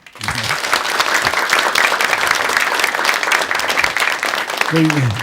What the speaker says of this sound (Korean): 큰 박수로 강의 청해 보겠습니다.